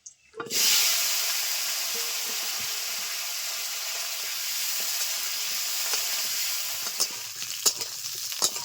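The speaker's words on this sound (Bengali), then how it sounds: "আলুগুলো ভেজে নেব" Potato pieces drop into hot oil in a pan and erupt into a loud, steady sizzle that holds evenly, with occasional pops and spatula scrapes near the end.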